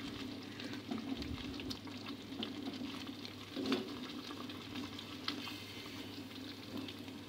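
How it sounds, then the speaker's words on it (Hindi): Sliced tomatoes fry in a karahi for butt karahi with a faint, steady sizzle and light patter over a low background hum, with a few soft stirring knocks. "अब इन तमाम चीज़ों को हम बहुत अच्छे तरीके से फ्राई करेंगे"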